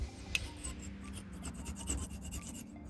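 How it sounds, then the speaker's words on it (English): Razor blade scraping old RTV sealant off the metal sealing surface of a Dana 60 full-floating differential on a 1996 Ford E-350 Econoline, giving steady close rasping strokes with a few sharper scrapes. "I'm just gonna take a razor blade and start scraping off all this RTV"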